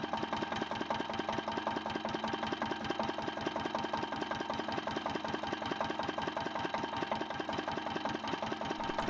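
A Snow 600-horsepower industrial diesel engine runs steadily at a constant speed, with a dense, even mechanical drone and a rapid, regular firing pulse that continues without a break from start to finish.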